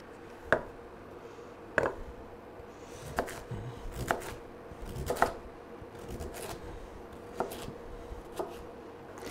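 A knife chops through celery on a cutting board in sharp, irregular strikes, fine slices, about a dozen crisp cuts close by.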